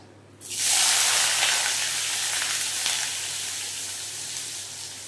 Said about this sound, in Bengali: তারপরে দিয়ে দেব কুচিয়ে রাখা পেঁয়াজ।